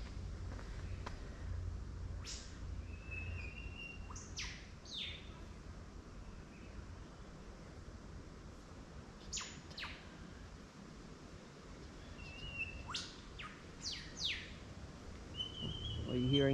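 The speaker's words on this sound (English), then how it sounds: "you're hearing is the sound of the birds up there" Birds chirp and tweet in short, scattered calls in the trees of a botanical garden in the Blue Mountains west of Sydney, over a steady outdoor hum, some calls sharper and closer, others faint in the distance.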